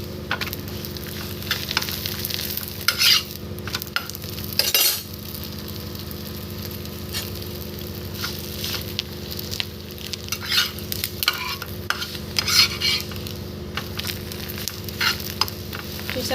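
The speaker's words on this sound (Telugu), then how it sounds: "కొద్దిగా ఆయిల్ వేసేసుకొని మనం కాల్చుకోవటం అండి." A paratha roasts in a little oil on a pan, giving off a continuous close sizzle with frequent clinks and scrapes of a spatula across the surface throughout.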